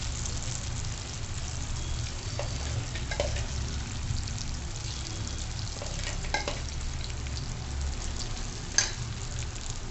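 A ground paste of chili, peanuts, garlic and ginger fries in hot oil with a steady close sizzle, broken by occasional stirring scrapes and a sharp clink near the end.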